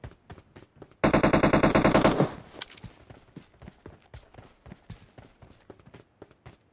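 Loud sustained burst of automatic gunfire in the battle royale game PUBG Mobile, about a second of rapid shots, followed by faint scattered footstep-like taps and distant pops.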